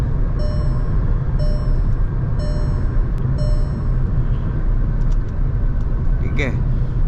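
Skoda Kushaq 1.0 automatic with the eight-speed gearbox cruising on a highway, heard as a loud, steady cabin road and engine rumble beneath a person talking throughout.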